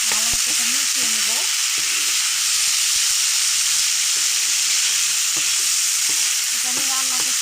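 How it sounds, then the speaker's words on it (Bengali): Vegetable pulao being stirred and mixed in a frying pan, with a steady oily sizzle throughout and scattered scraping and clinking of the utensil against the pan, close and fairly loud, with no talking. "ভালো মতো এটা মিশিয়ে নেব।"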